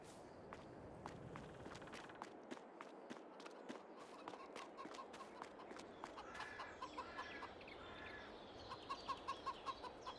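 Chickens cluck softly amid rapid footstep sounds in the video game Farming Simulator 22, with a short series of higher clucks near the end; faint and game-like.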